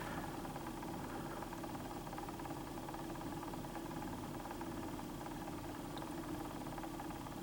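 A worn-in Victor motor machine with little grease on its gears or oil runs quietly, giving a faint, steady low hum with mild vibration that holds constant throughout.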